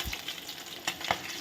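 Fish pieces fry in hot oil while being turned over, giving a soft, low sizzle broken by two or three brief scraping clicks from a utensil.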